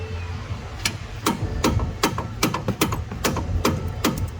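Sharp metallic hammer strikes on car parts while removing the driver-side CV axle of a 2014 Ford Explorer, about a dozen hits in an uneven rhythm, close and fairly loud over a low hum.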